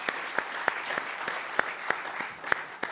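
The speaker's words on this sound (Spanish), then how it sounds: "Un fuerte aplauso" Modest church congregation gives a round of applause to welcome newcomers: scattered, fairly sparse hand claps with distinct individual smacks, close and moderately loud, under a faint background of voices.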